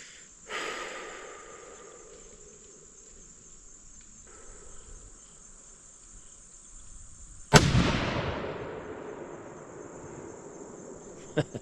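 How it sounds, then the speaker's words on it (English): Sighting in a deer rifle on a range: a soft breath is followed by one loud, sharp rifle shot with a long fading echo, over a constant high chirping of crickets. "So I'm sure you can hear me breathing before I shoot."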